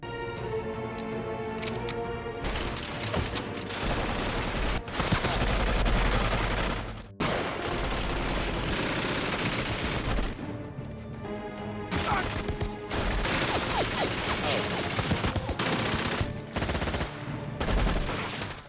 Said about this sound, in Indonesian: William merampas senjata otomatis untuk melawan ratusan penjaga